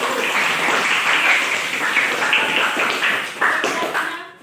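Classroom group applauding at the end of a lesson, a short, dense burst of clapping close by that swells briefly and fades out within a few seconds.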